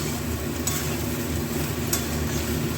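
Fried rice stirred in a hot pan, with a steady close sizzle and scraping churn running throughout and a couple of brief clinks of the utensil against the pan.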